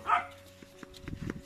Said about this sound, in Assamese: কুকুৰে ভুকিবই আকৌ